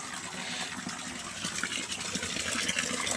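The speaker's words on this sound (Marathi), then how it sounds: "ही बघा टाकी ओव्हरफ्लो झाली ना" Steady rushing water spilling and gushing continuously from an overflowing water tank, fairly close with no voices.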